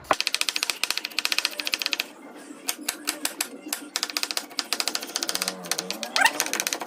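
A medium onion is finely chopped with a knife on a board, producing rapid, rhythmic close-up taps in quick bursts with short pauses.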